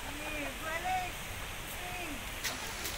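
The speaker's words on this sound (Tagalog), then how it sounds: "Tuwasan Falls." Tuwasan Falls, a waterfall busy with tourists, gives off a steady, faint broadband roar while people talk over it.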